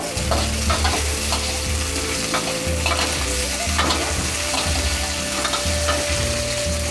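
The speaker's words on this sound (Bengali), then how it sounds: "এবারে এটা একটু নাড়াচাড়া" Chopped tomato is stirred in a frying pan for dalia khichdi, with a continuous close sizzle and repeated scraping and tapping of the spoon across the pan.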